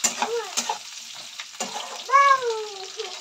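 Potatoes and bitter gourd frying in a pan, a steady soft sizzle with occasional stirring scrapes, while a voice speaks over it in places.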